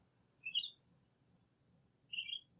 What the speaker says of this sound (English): The pine grosbeaks are giving a quavery commentary from the treetops.